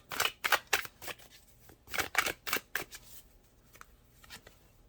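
Tarot cards are shuffled and drawn from the deck, a close run of quick riffling flutters and snaps in clusters, then a few lighter card flicks as it trails off.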